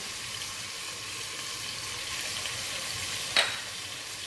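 Garlic and za'atar fry in olive oil, a steady soft sizzle with fine crackle throughout, broken near the end by a single sharp clink.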